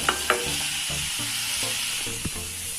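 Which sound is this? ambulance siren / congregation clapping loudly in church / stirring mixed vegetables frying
stirring mixed vegetables frying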